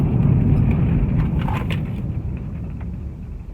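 A car slows under braking after cruising, its road rumble and engine hum loud at first, then gradually easing and fading as it decelerates, with a few faint creaks midway.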